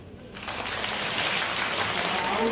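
A church congregation bursts into steady applause that swells quickly and holds full and close, many hands clapping together without pause.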